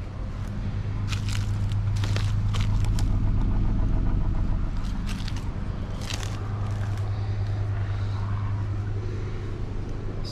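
A Ford MKX engine runs at idle with a suspected cylinder one misfire, giving a steady low drone broken by irregular ticking and popping bursts, heard close and alone.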